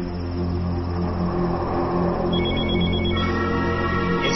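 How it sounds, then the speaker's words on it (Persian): A telephone rings loudly and steadily with a continuous electronic bell tone, heard alone with no voices over it. "این صدای تلفن از کجا؟"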